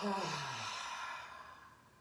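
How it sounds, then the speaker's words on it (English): A single long, breathy exhale during a breathing exercise, loud at first and slowly fading out, with a soft voiced tone at the start and nothing else around it. "We inhale through the nose and exhale"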